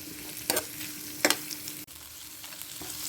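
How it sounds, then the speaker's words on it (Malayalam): Ginger garlic paste sautés in a pan as a soft, low sizzle, broken by a few sharp spoon scrapes and clicks against the pan, with no voices. "ഇതിലേക്ക് ഒരു ടേബിൾ സ്പൂൺ ജിഞ്ചർ ഗാർലിക് പേസ്റ്റാണത് നന്നായിട്ട് വഴറ്റണം"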